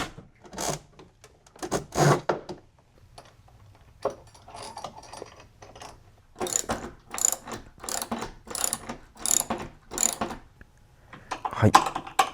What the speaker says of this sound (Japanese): これとプレート、こういうのを使って、もうがっつり穴開けて留めていきます。